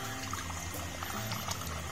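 Water pours into a glass in a quiet, steady trickle, close by and alone with no talking.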